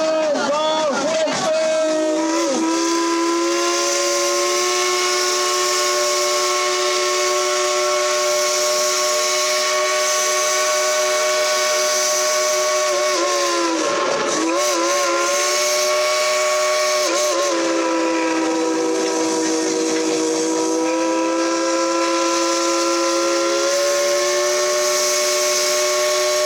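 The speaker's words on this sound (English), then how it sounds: "let's tell the engineer to blow the whistle" The steam whistle of the Dollywood Express locomotive blows in one long, loud, sustained chord, dipping briefly twice before holding on with a hissing edge.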